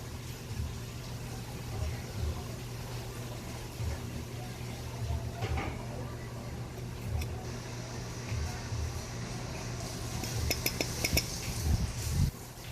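Breaded pork chop seasoning with a dash of pepper being stirred in a bowl, steady clinking of a utensil against the dish over a low background hum, with a few sharper taps near the end.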